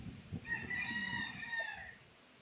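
A rooster gives one clear cock-a-doodle-doo crow, fairly close and prominent, with faint background noise and no speech.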